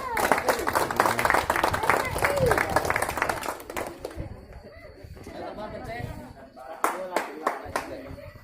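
Neighbours applaud a family returning home after corona quarantine, a dense burst of clapping outdoors that fades out, then a few scattered claps, with people chattering and birds calling nearby.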